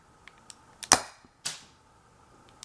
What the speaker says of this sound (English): And here we go, firing.